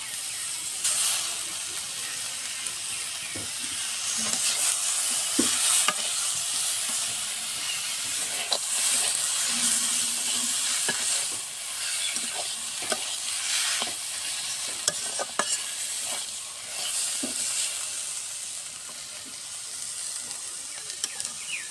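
Fish frying in a pan, a continuous close sizzle and hiss with repeated stirring scrapes and clinks of a utensil against the pan throughout, with no talking.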